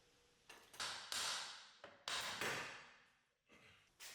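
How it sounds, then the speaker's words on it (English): A series of heavy metallic hammer blows pounding a 3rd-generation Toyota Tacoma driveshaft off a U-joint cap held in a vise, about six strikes at uneven intervals, each ringing and fading before the next, with no talking. "Place that protruding side into the vise and pound the driveshaft off of that cap."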